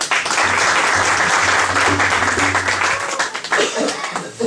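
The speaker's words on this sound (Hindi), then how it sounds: "प्रभु यीशु ले जोरदार तालियां।" A congregation at a Christmas church service applauds loudly, a thick steady wash of many hands clapping, with a low hum beneath it and the clapping easing slightly toward the end.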